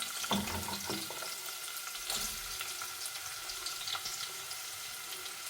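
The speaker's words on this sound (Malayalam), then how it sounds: "പാത്രത്തിൽ ഓയിൽ ഒഴിച്ച് വെച്ചിട്ടുണ്ട്, അത് ചൂടായിട്ടുണ്ട്. നമുക്ക് സവാള കൊടുക്കാം." Sliced onion goes into hot oil for a Kerala nadan chicken curry and fries with a loud, continuous sizzle, close by, with a few stirring knocks and splashy bursts.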